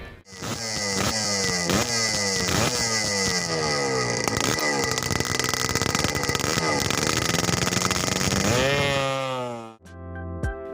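A two-stroke motorcycle engine runs roughly with a loud, raspy buzz, its pitch swinging up and down across repeated revs before the engine cuts out near the end.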